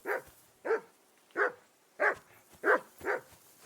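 A dog in Kingdom Come Deliverance II barks six times in an evenly spaced series of sharp, fairly close yelps with short pauses between them, and no talk over it.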